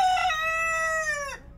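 A single rooster crows once, close and clear: a drawn-out, harmonically rich call lasting just over a second that slides slightly downward before cutting off, with no talk.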